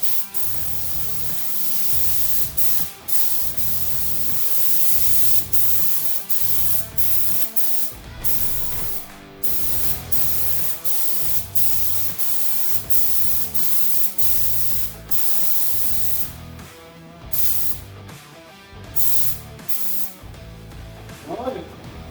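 A spray gun hisses steadily while laying a light first coat of paint on a Dodge Challenger, in long close bursts with brief pauses, a voice talking over it.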